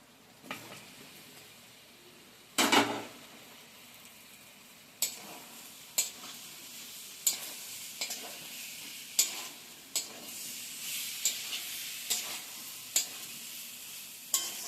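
Food sautés in an oiled pan with a constant sizzling hiss, broken by regular scraping strokes of a stirring spoon, close by and with no voices.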